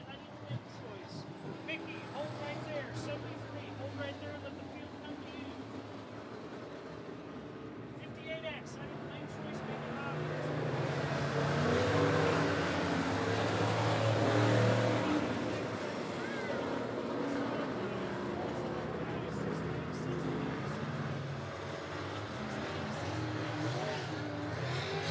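Race cars roar around Monett Motor Speedway during a heat race, a continuous engine drone that swells as the field passes and then eases, under ongoing announcer talk.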